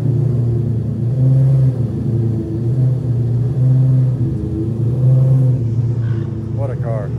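A Lamborghini LP640 E-gear, a V12 supercar, idles with a steady loud rumble punctuated by a few rising revs, heard close up with a voice briefly near the end.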